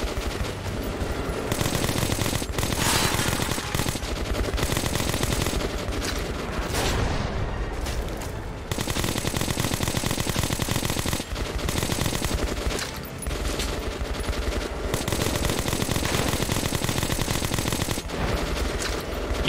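Sustained machine-gun fire in the video game Metro Last Light, long loud rattling bursts with heavy booms, broken only by brief pauses.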